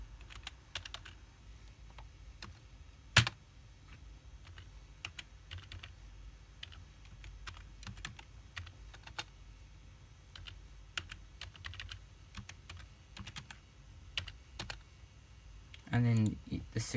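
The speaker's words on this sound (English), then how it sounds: "And you just type in your name." A computer keyboard being typed on during an operating system setup, close and fairly quiet, with scattered light key clicks and short runs of tapping, one sharp louder keystroke early, and a speaking voice in the background.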